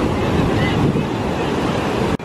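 Loud, rushing surf roars continuously as ocean waves break on a beach, with heavy wind buffeting the microphone, cutting off abruptly near the end.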